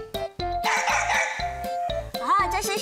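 A voice imitates a puppy barking in a sound-guessing game on a children's television show, making a series of short, close yapping calls with brief pauses between them.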